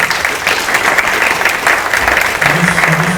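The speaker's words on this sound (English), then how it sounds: "Let's have another round of applause for our participants." Loud, sustained applause from a debate audience after a lieutenant gubernatorial debate, a steady wash of clapping with a faint low tone near the end.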